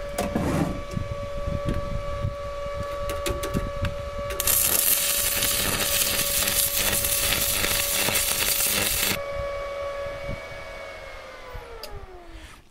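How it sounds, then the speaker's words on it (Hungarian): A Ukrainian inverter welder runs at 240 amps, making a steady high electronic whine with a loud, harsh crackling burst of welding arc in the middle before the tone fades and drops in pitch as it stops. "megpadlózzuk egy kicsit az ukrán inverteres hegesztőt"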